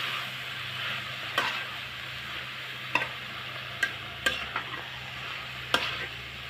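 Chopped spinach is stirred into sizzling masala in a pan, with a steady low fry hiss and several sharp spoon scrapes and clacks spaced out over it, close by.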